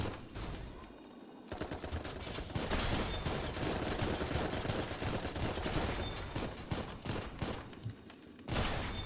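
Sustained enemy gunfire in a video game, dense bursts of automatic fire and rapid shots filling the whole stretch, loud and continuous with a brief lull near the start.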